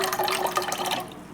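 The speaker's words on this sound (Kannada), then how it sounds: "ಹಾಲಿಗೆ ನೀರು" Water poured into milk while making coffee at midnight, a short close splashing trickle that fades at the end.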